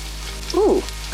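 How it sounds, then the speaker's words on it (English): Onions frying in oil in a pan on a home stove give off a soft, steady sizzling hiss, with a short vocal sound briefly rising over it. "Gonna hit it with some oil first, and turning on the stove would be helpful too. All right, we're gonna add the onions."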